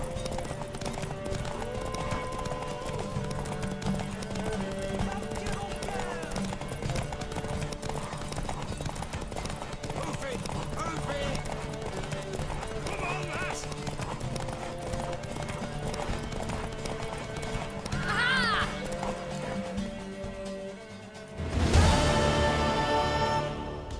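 A horse clip-clops steadily through the open world of The Witcher 3, hoofbeats running under a bed of game music and ambience, with a brief whinny near the end before a louder burst of sound.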